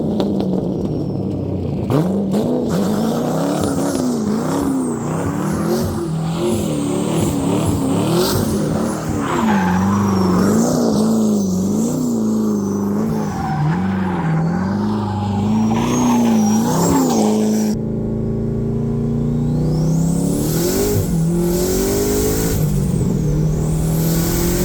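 Chevrolet Corvette C6 Z06 with a custom catback exhaust revving loudly and close, rising and falling throttle blips repeated over a steady rumble, with no talk.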